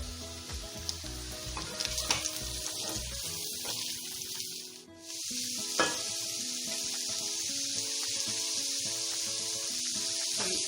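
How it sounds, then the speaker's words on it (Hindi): Carrots, bell pepper and onion frying in a pan for spaghetti, giving a steady close sizzle with brief stirring scrapes and a short dip midway. "फ्राई हो, गाजर डाली है मैंने और शिमला मिर्च डाली है और प्याज भी साथ मैंने डाल दिया"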